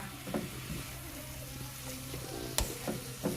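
Spring roll filling cooking in a pan, a constant close sizzle with soft scraping and clacking as it is stirred, one sharp utensil clack standing out near the end, no talking.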